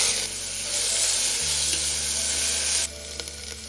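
Finely chopped onion with whole spices sizzles in cooking oil for a mutton curry, a dense, bright frying hiss close up that shifts tone partway through and drops in level near the end.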